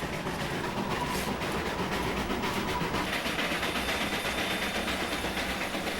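Trains on India's railways rumble along with a steady hiss and rolling clatter, a continuous, moderately distant wash of rail noise with no voices.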